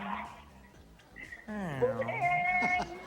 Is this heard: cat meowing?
yes